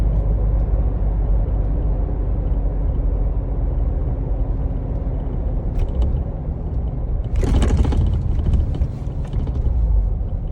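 A Jeep Wrangler JK driven with no muffler, a loud, steady low exhaust rumble while cruising around 40 mph in third gear near 2,200 RPM, with a brief burst of mechanical rattle and hiss partway through.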